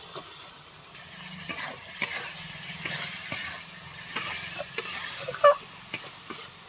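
Spices and peas stir-fried in a pan at home, a soft steady sizzle broken by scattered scrapes and clinks of a spatula against the metal, close and fairly quiet with no talk.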